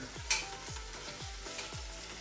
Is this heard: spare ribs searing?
yes